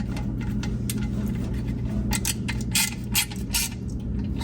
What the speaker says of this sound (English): evenly tighten up the pressure plate bolts